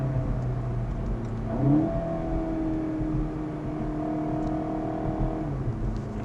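Tuned car with a EuroDyne tune accelerating hard, engine note climbing steadily through a gear change, heard from inside as a smooth loud whir and rumble.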